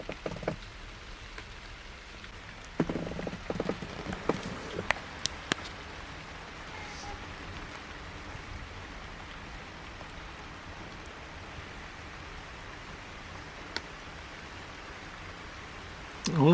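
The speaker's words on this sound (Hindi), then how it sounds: "ये देखिए भाई गाइस बारिश के साथ जंगल को फील करिए।" A steady hiss of rain falls over jungle at night, even and continuous, with a few faint scattered knocks and rustles close by and no talking.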